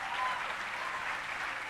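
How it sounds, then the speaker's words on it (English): Steady crowd applause for dancers at the finale of a local dance-with-the-stars show, a dense continuous patter filling the short span at an even, moderate level with no pauses. "let's give a round of applause to all our dancers"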